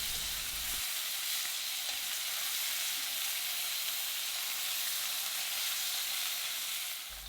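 Beef browning in a cocotte pot over medium heat for beef bourguignon, giving a steady, close, even sizzle and crackle that holds for the whole stretch with no voices.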